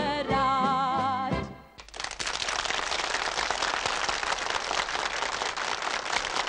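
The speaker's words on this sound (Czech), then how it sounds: "za váš tak milý a srdečný potlesk" A live audience breaks into dense, steady clapping right after a sung love song ends abruptly, the crowd applause loud and sustained.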